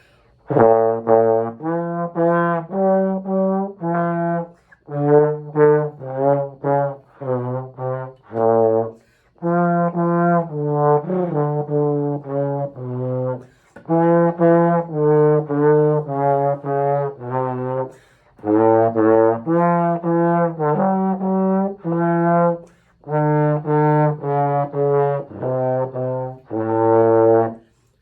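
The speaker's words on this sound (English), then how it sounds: "I'm gonna play a little bit for you on trombone." A trombone plays a lively melody of short, separated notes and phrases, close and clear, with brief pauses between phrases and no talking.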